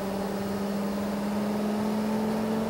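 A 2000 Four Winds Windsport 35D motorhome accelerates onto the interstate with a steady engine drone and a sustained mid-range hum over road noise, heard from inside the cab.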